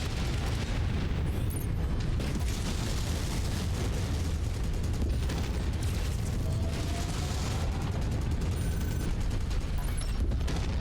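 In the MechWarrior 5 video game, a dense, continuous roar of explosions and mechanical rumble fills the scene, loud and unbroken throughout, with scattered crackling bursts layered on top.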